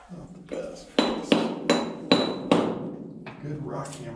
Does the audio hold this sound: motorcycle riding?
no